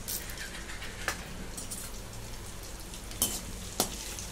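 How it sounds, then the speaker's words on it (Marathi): Edible gum frying in hot ghee for laddoos, a quiet crackling sizzle with brief popping spatters and a couple of sharp ticks, no voices. "तूप कडक झालेलं आहे. त्याच्यात डिंक टाकून घेते."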